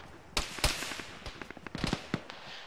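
Gunfire rakes a bunker in a squad-based military shooter game, a scatter of sharp cracking shots at irregular intervals, some loud and close, others quicker and lighter, with no voices over them.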